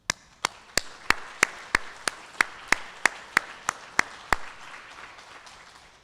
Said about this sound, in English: Big round of applause to our new batch of Little Priest Tribal College alums.